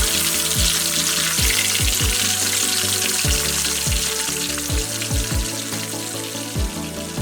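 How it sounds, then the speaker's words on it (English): Tonkatsu pork cutlets deep-frying in hot oil at 320 degrees, a loud, steady bubbling sizzle with scattered low knocks and clinks throughout, no voices. "Fry the Tonkatsu at 320 degrees for about 6 to 7 minutes"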